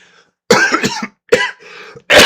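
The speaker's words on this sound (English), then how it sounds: "I wasn't coughing until like this" A few sharp, loud coughs in separate bursts, the first a cluster of hacking coughs, then another harsh cough and a final abrupt one, close to the microphone.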